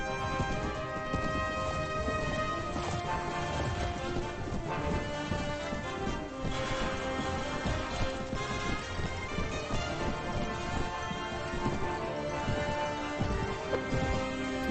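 Horse hooves clip-clop through a dense medieval battle in Mount & Blade: Warband with the Floris mod, a steady trampling buried in a thick wash of combat noise and ambience.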